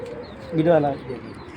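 A single soft pigeon coo rises and fades over a low background murmur, close by.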